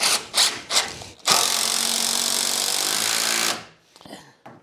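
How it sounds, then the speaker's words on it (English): A power drill drives a big long screw into a wooden raised-bed planter box, a loud continuous whirring grind lasting about two seconds, with short clicks and handling knocks before and after. "just makes driving these big long screws that much easier"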